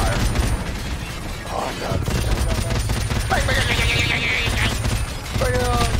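Heavy Call of Duty firefight with rapid automatic gunfire and explosions filling the whole stretch, dense and loud, with a short exclamation and game radio chatter over it.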